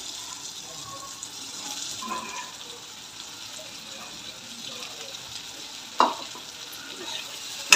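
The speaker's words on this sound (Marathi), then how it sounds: "कट केलेली भोपळी मिरची टाकून घेऊ" Chopped bell pepper with tomato frying in a pan for a capsicum sabzi, a faint steady sizzle with soft stirring sounds and one sharp clatter near the end, quiet and close.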